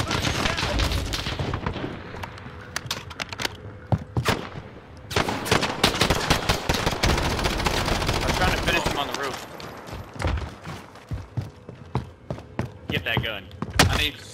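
Gunfire in the Call of Duty Warzone video game: dense bursts of automatic fire and sharp single shots with booming impacts, loud and continuous for long stretches, overlapping with voices talking.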